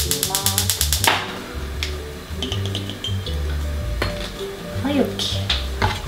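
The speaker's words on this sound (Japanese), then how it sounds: "これはオリーブオイルで炒めていきます" Chicken breast stir-fried in olive oil, with metal spatula clatter and scraping against a pan over a soft sizzle, mixed with background music and occasional talk.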